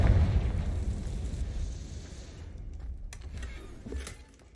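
A Confringo fire spell explodes in Hogwarts Legacy with one loud, close boom at the start. Its rumble decays over a few seconds, followed by a softer pop and faint rattling debris, with no voice.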